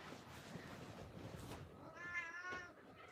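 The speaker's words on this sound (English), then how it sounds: "Hang on, the kitten wants out." A kitten meows to be let out, a single short near meow near the end over a faint background murmur, with no talk.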